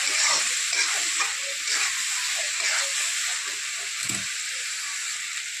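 Oil sizzles and fries steadily in a pan while onion is sautéed for moth bean dal, a constant close hiss with light stirring scrapes.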